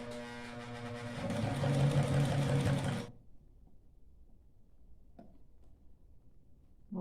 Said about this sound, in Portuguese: nas curvas, eu sempre auxilio com a mão a máquina para fazer a curva, para que não dê problema de escorregar.